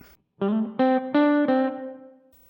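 Electric guitar played through a Donner Verb Square reverb pedal in a studio-style setting: four ringing chords in a row, each sustaining, then a reverb tail fading out with no talk.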